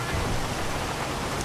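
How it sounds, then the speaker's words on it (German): Steady heavy rain drums on a car roof in the GTA V video game, a dense, even hiss that holds alone without talk throughout. "Und hier regnet es auch, habe ich das Gefühl. Also man hört zumindest, dass das auf unser Dach prasselt."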